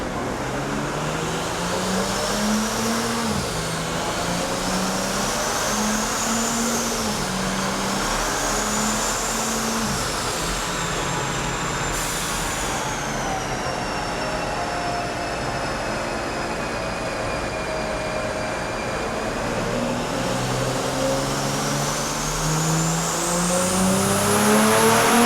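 A 1000-horsepower all-wheel-drive BMW M3 makes its first power pull, the engine note climbing through several rising gear sweeps with a high whine, loud and sustained, no talking.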